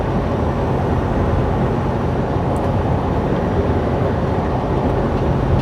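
A long freight train with three distributed power units rolls past at close range, a steady, loud, broadband rumble and roar that holds evenly throughout with no talking.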